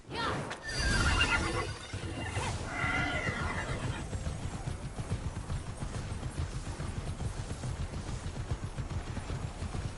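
A winged horse whinnies in the video game Immortals Fenyx Rising, a loud neigh near the start followed by clip-clopping hooves and a steady rumbling game backdrop.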